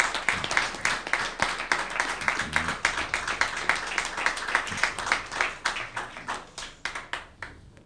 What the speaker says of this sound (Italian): vorrei dedicare un applauso